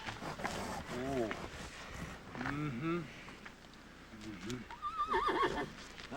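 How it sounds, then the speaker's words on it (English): An unbroken horse gives several loud, close neighs and whinnies, with hooves clip-clopping and voices talking in between. "Seems there's a new horse they ain't been able to break yet."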